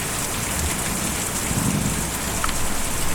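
Rain in the video game Kentucky Route Zero, a steady dense hiss of rainfall with a faint low rumble, continuous and even throughout.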